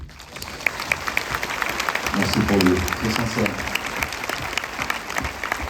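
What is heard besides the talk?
audience applauding the film director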